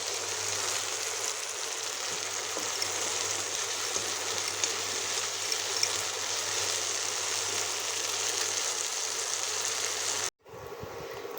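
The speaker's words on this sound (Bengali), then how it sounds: "বেগুনটাকে খুব ভালো মতো একদম ব্রাউন কালার করে ভেজে নিতে হবে।" Eggplant pieces fry in oil until brown, producing a steady, dense hiss of sizzling that runs unbroken for about ten seconds, then cuts off briefly and resumes more quietly, with no talking.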